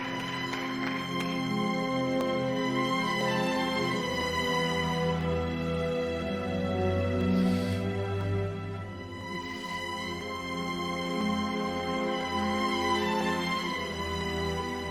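Orchestral film score from The Lord of the Rings playing continuously, with sustained strings and tonal layers swelling slightly midway, steady and full with no voices over it.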